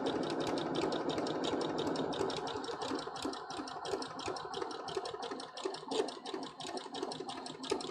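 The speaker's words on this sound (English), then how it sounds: "just sewing it down" A sewing machine stitches down a cosplay Jolly Roger flag in a fast, steady rapid-fire clatter, running continuously and close up with small pauses in pace, no voices present.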